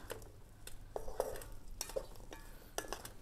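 Chinese sausage (kun chiang) frying in a pan outdoors: a spatula scrapes and clinks against the metal in irregular strokes over a soft, low sizzle.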